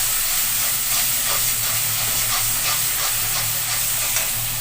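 Onion paste sizzles loudly in hot salted oil in a pan while bhetki fish curry is being cooked. It makes a dense, continuous hiss that stays steady throughout, close and with no voices.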